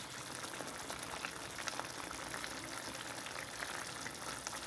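Sauce for Brazilian beef bubbling in a pot, a steady close hiss of simmering with small pops throughout, unbroken and fairly quiet.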